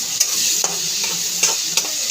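Cauliflower (gobi) frying in a pan, with a steady high sizzle broken by several sharp scraping stirs of a spatula, close and fairly loud.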